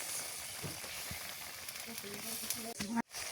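Small fish cooking with tomato in a pan, giving a soft, continuous sizzle close by with a few stirring scrapes. A voice speaks briefly over it, and the sound cuts off abruptly near the end.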